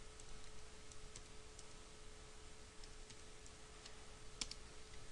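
Someone types ipconfig on a computer keyboard, producing a handful of faint, light keystroke clicks spaced irregularly over a quiet room hiss, with one slightly sharper click near the end.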